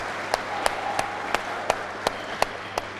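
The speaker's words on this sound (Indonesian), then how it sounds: "Tepuk tangan untuk Mas Teguh Suwanto" Faint, sparse claps at a student-role panel event in Indonesia, coming in a slow, even rhythm of single distinct hits over a quiet hum of room noise.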